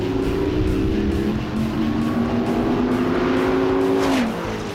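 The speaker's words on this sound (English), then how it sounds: "What you've been waiting to see, a real-world drag race." A Dodge Viper and a Corvette Z06 drag race down a track, a loud, steady engine roar holding a rising tone through the gears before a sharp drop as the cars back off near the end.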